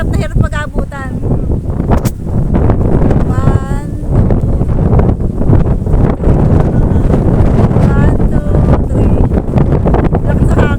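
Loud, steady wind buffets the microphone throughout, a dense low roar with people talking over it, at Crystal Cave in Boracay.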